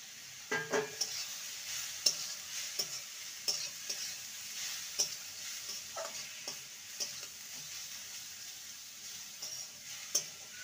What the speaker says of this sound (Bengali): ভালো করে ভেজে নিতে হবে যাতে করে পটল আর আলুর কাঁচা গন্ধটা চলে যায়